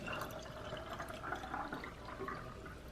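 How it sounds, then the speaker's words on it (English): Water pours into a bottle already holding cashews, a soft, close gurgle and splash that keeps going steadily for a few seconds at low volume. "Fill the bottle up 1/3 of the way of cashews and then the rest water."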